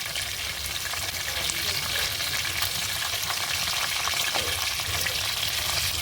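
Chicken satay fries gently on low heat while being turned, giving a continuous close crackle and sizzle with soft stirring sounds and no speech.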